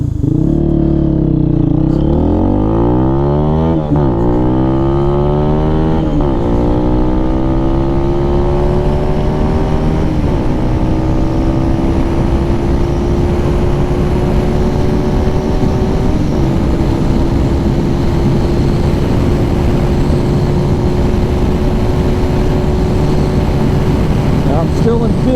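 A Lifan KPM 200 motorcycle with a 17-tooth sprocket, on a top speed run up a hill in fifth gear: a loud, steady engine drone with rising pitch through gear changes, then held high, with wind noise and a rider talking.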